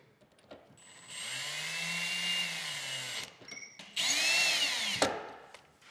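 Power drill driving Phillips head bolts into a flipped FSR rooftop tent latch, whirring in two close bursts of a couple of seconds each with brief clicks and pauses between, moderately quiet.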